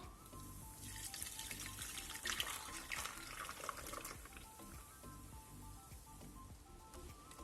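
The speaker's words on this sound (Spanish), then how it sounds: "Vamos a verter la mezcla del flan dentro con mucho cuidado." Chocolate flan mixture poured carefully into a still-warm mold for a microwave flan, giving a steady close liquid pour and trickle with faint kitchen clatter throughout.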